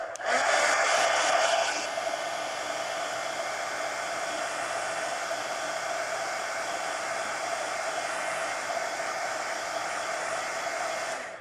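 A hair dryer blows steadily on a coloring page, a loud, continuous, close whooshing hiss with a brief louder surge at the start before settling into a constant roar.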